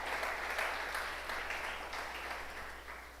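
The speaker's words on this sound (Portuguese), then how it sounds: "por favor, aplauda aí" A church congregation claps together in a brief burst of moderate, fairly distant applause that fades slightly toward the end.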